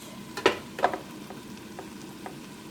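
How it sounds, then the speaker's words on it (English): Cabbage drops into a hot frying pan for bigos hunter's stew, giving two soft sizzling hits over a faint, low background sizzle; quiet, with no talking. "I'll add the cabbage."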